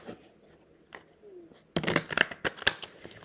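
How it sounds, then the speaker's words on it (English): A deck of playing cards riffle shuffled close up, a quiet lead-in giving way to a sudden loud burst of rapid fluttering card clicks and several sharp snaps as the halves are pushed together. "I want to give these a good ruffle shuffle here"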